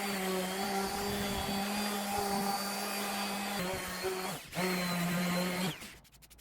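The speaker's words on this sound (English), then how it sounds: "we flip it over and give the back one final sanding just to clean everything up and smooth it out" Continuous whining drone of a power sander smoothing the back of a wooden wavy flag nearby, briefly dipping once, then winding down and stopping at the end.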